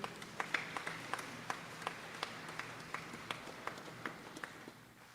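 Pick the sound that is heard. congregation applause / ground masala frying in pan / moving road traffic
congregation applause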